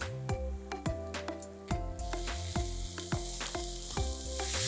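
Finely chopped onions and salt fry in a pan for prawn pulao, a hissing sizzle swelling up midway and growing louder over a rhythmic, tonal musical backing.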